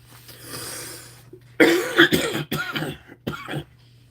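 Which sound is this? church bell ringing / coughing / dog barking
coughing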